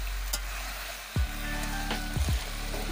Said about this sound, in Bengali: একদম লো আঁচে মাংসটাকে ভালোভাবে কষতে হবে।